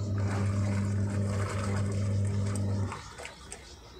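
A Godrej 6.2 kg fully automatic top-load washing machine runs its wash cycle, rolling the clothes with a steady low motor hum and water churning, then the drive cuts off near the end, leaving faint sloshing.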